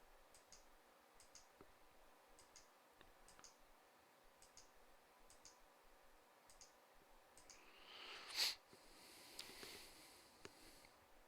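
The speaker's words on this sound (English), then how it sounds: "I'm just clicking back and forth here to see it." A computer mouse clicks back and forth at a desk during a recorded livestream, faint, evenly spaced clicks repeating steadily with a brief louder rustle partway through.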